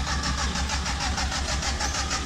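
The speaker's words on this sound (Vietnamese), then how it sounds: "Đang nổ máy để chạy về." A 1993 Suzuki Super car engine runs at a steady mid-pitched idle, loud and close, with an even pulsing rhythm throughout.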